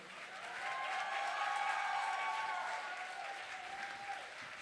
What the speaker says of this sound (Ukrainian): Оплески, давайте гучніше, оплески Криму!